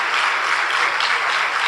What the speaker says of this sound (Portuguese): Eu queria que todos dessem um aplauso também para esses queridos irmãos.